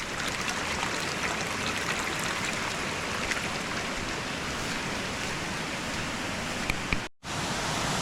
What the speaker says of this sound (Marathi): असं शांतता झाली की बघा फक्त ओढ्याचा आवाज येतोय खळखळ